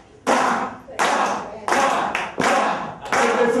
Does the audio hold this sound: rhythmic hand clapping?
yes